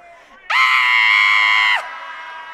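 A woman lets out a loud, sustained high-pitched scream lasting about a second on stage at a Walk of Fame ceremony, with a crowd murmuring faintly before and after.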